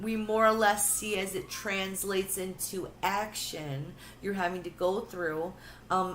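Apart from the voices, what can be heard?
None of the usual background noises is heard.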